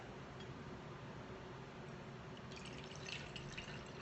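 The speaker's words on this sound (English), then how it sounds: "So we're going to just do half water and half peroxide, and we're going to fill this up." Water and hydrogen peroxide are poured into a bottle to fill it halfway with each. A faint, steady trickling and dripping of liquid runs throughout, with a slight brightening in the final seconds.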